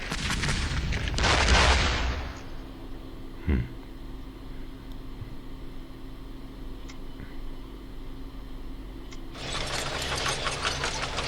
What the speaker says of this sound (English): Alright, deploying howitzers.